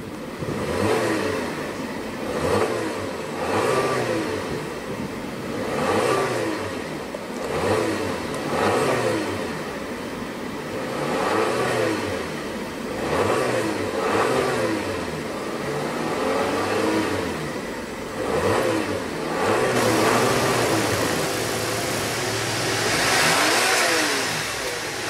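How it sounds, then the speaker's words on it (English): The engine of a 2015 Audi Q3 rises and falls through repeated revs in a steady rhythm, with a brief idle between pushes and a louder final blip, close and alone without any talking. "let's go ahead and see what kind of engine note she makes."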